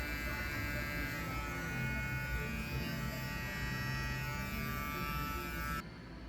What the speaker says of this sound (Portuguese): Aqui com as costas da máquina eu impulso um pouquinho e faço o contorno.